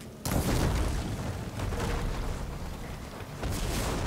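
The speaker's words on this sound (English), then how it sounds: "More explosions!" Explosions in Horizon Forbidden West boom loudly one after another, a dense rumbling blast that starts abruptly and stays heavy throughout, with a fresh burst near the end.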